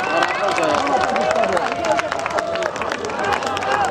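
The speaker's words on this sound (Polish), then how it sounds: "Wielkie brawa!" A crowd claps and cheers at a KMM Liga Zaprzęgowa carriage-driving event in Świecie, with steady applause running the whole time under an amplified announcer's voice.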